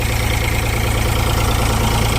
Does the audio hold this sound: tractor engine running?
yes